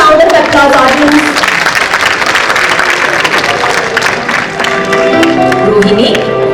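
Loud audience applause at a school annual day event, dense clapping throughout with music and voices mixed in, briefly dipping before swelling again.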